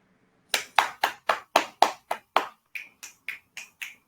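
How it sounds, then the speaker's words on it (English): Audience clapping at a live rap performance, about a dozen sharp hand claps in a steady rhythm, close and fairly loud, with the later claps a little lighter. "Clap it up."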